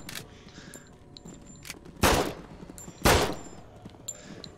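Two loud, sharp gunshots crack about a second apart in the VR game SURV1V3, standing out over a low, busy background of game ambience.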